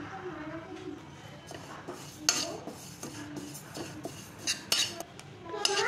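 Sesame seeds are dry-roasted in a kadhai, the spoon scraping and tapping against the metal in irregular clinks and strokes under a soft hiss, fairly quiet and close.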